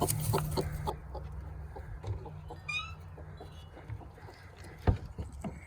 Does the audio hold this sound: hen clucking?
yes